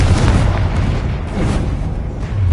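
Confringo blasting curse in the game Hogwarts Legacy, a heavy, booming explosion with a deep rumbling roar that stays loud and dense throughout, heard alone without talk.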